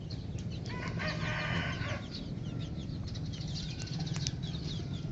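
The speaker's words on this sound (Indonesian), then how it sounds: "Ini ayam saya, anaknya cukup banyak" Chickens, a hen with a brood of chicks, cluck and chatter close by, with scattered wing flaps and busy bird calls over a steady outdoor background.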